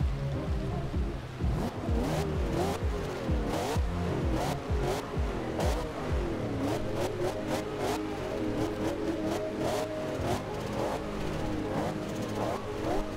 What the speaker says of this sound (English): Hear a lot of turbo action going on when you look at it from this angle.